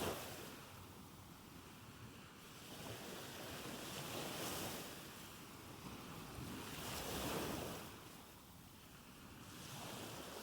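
Soothing ocean waves roll in and wash out in slow, broad swells of hissing surf, with a soft wind-like rush throughout, steady and distant, with no voices.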